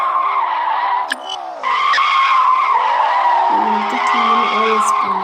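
A car, apparently a Lamborghini, drifts in a video game, its tires squealing in a long, loud, continuous skid over a wavering high-revving engine tone.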